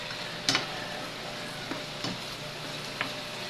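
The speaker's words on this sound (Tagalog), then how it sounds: "So saute lang natin ito guys na a few minutes" Chicken liver sautés in a pan with a soft, steady sizzle, broken by a few light ticks and clinks of stirring, close and quiet with no talk.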